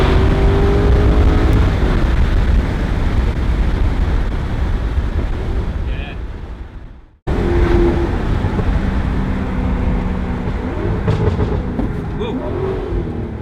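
A loud, close Alfa Romeo 8C V8 roars through a tunnel, with a dense, sustained engine rumble that cuts out briefly in the middle and then returns just as strongly, mixed with wind buffeting.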